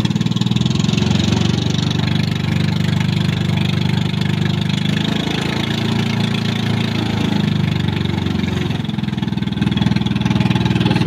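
Boat engines run steadily, a low rumbling drone with a knocking pulse that holds unchanged for several seconds.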